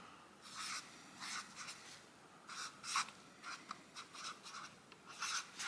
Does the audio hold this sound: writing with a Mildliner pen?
yes